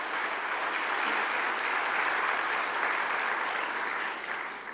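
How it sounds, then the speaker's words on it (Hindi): Audience applause at an inauguration session in a hall, a dense steady wash of clapping from a large crowd that holds evenly for several seconds before beginning to fade. "तालियां बजाएं।"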